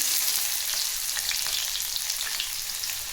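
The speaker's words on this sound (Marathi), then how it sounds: "बारीक चिरलेला कांदा टाकायचा आहे" Finely chopped onion frying in hot oil with cumin and mustard seeds for a spicy radish curry: a dense, even sizzle with small crackles and pops, close and continuous throughout.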